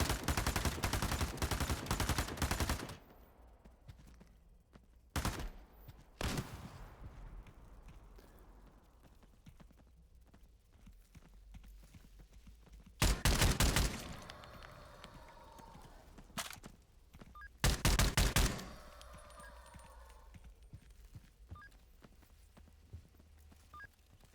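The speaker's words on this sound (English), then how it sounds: "Who's shooting us? Are they below? Are they trying to shoot through the floor?" Video game gunfire from below, shooting up through the floor: several separate bursts of loud rapid shots, each lasting a second or two, with quieter gaps of muffled movement and ambience between them.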